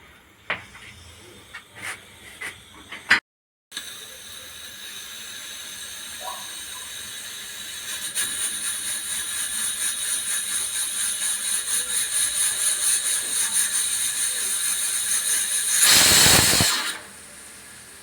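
A pressure cooker holding milk builds a steady steam hiss that grows louder, then lets out one strong whistling blast near the end before cutting off, close by with no voices.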